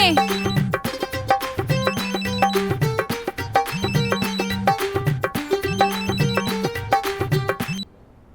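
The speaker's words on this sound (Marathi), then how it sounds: "फोन आलाय तुमचा" A phone ringtone plays a repeating electronic melody in loud, regular cycles, then cuts off abruptly near the end.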